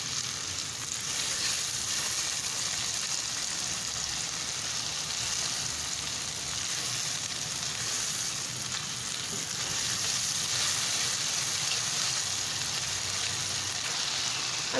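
Mash dal frying in a pan, a steady continuous sizzle with a bright crackling hiss that holds evenly throughout, close and unbroken by speech.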